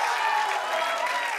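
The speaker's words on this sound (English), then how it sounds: "Don't applaud, that's terrible." A studio audience claps steadily throughout a late-night comedy monologue, dense applause at even loudness with no pauses.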